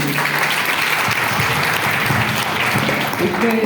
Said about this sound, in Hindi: तालियां बजा दीजिए इसके लिए।